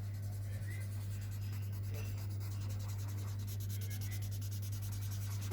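Rolled blotting paper rubbed across drawing paper to blend a first layer of drawing, a soft steady scratchy rubbing in quick strokes, close and faint over a low constant hum.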